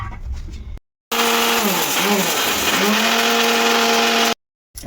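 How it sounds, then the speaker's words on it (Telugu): A kitchen mixer grinder powders ingredients for palathalikalu, whining loud and steady for about three seconds with pitch dips as the load shifts, cut off abruptly between short quiet gaps. "ఇదిగో ఇలా మిక్సీ పట్టేసుకున్నాను"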